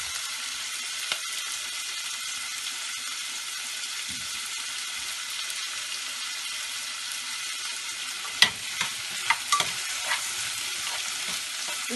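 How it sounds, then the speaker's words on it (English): Cauliflower fries over high heat in a pan for Cauliflower Manchurian, a continuous close hiss of sizzling oil with occasional scraping stirs and a few sharp taps of the utensil. "I'm going to be stirring that, I should say, for a little while, a few minutes."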